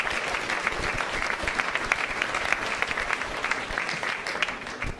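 An audience at a lecture hall talk breaks into sustained applause, dense and steady clapping from a large crowd throughout.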